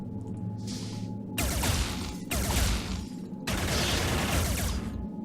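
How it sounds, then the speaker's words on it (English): Gunfire in the video game Xenonauts Community Edition comes as sustained bursts of rapid shots. Three long, loud volleys are separated by brief pauses, and a quieter mechanical hum runs underneath. "Okay, there was so much gunfire then."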